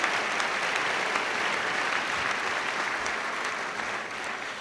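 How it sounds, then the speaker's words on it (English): A large audience claps steadily and loudly at a City Club debate between U.S. Senate candidates Mike DeWine and Sherrod Brown, with dense, sustained applause filling the whole stretch. "So give yourself a round of applause."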